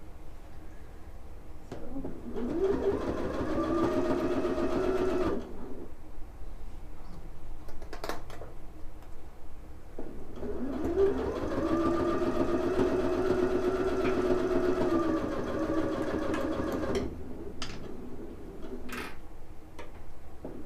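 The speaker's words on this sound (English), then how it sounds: "you can absolutely use your 1/4 inch foot when you're sewing your stuffies together." A sewing machine with a quarter-inch foot stitching fabric for stuffed toys runs in two steady whirring stretches of several seconds each, broken by short pauses and light clicks.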